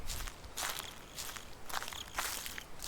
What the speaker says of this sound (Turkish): çatır çatır yürüyoruz ya.